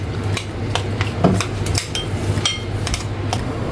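A spoon stirring a flour-thickened mixture in a metal pot for fresh lumpia, giving irregular clinking scrapes and taps against the pot over a steady background hum.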